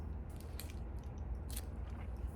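Someone bites and chews a crunchy, aerated chocolate bar like an Aero, close up, with a couple of soft crunches and mouth sounds over a faint low background hum.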